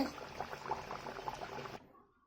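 Palm-flavoured luchi bubbles and crackles in hot oil, a dense close sizzle that cuts off abruptly near the end, leaving a faint tail.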